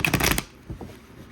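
A deck of cards is shuffled in one quick riffling burst, close and crisp, followed by a couple of faint soft taps.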